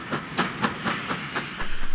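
A Class 5 steam locomotive hauls a lengthy parcels train of short wheelbase goods vans and parcels stock in north west England, its exhaust beating in a regular, loud chuff that quickens near the end.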